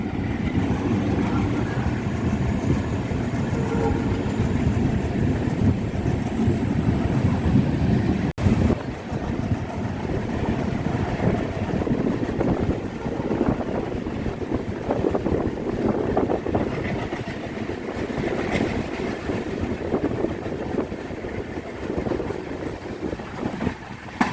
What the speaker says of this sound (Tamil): ட்ரக்கிங் சவுண்ட் நல்லா கேட்குது